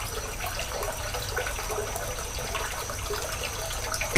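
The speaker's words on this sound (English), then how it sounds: "Add water 2 cups." Water pours steadily into a cooking pot of aloo gobi, potato and cauliflower, as a soft, even splashing rush that lasts throughout with a small clunk at the end.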